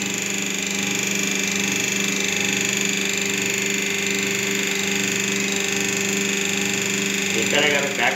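A hydraulic paper plate making machine with a round die runs with a steady mechanical hum and motor drone, loud and close, with a brief rattling clatter near the end.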